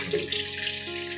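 A small amount of water being poured into a pot over marinated fish and green chillies before it is covered and steamed, a brief close trickling splash heard alone.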